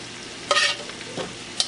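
Two short bursts of a spoon stirring chicken broth and oil in a pot for Nigerian jollof rice, with a faint sizzle and a light scrape near the end, close up and without talk.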